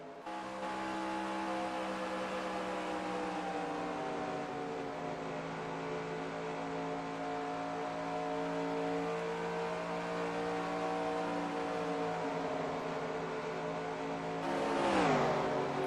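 Onboard race car engine at Indianapolis, a steady high droning note that eases and builds with throttle over several seconds, ending in a brief sweeping rush near the end, moderately loud with no talking.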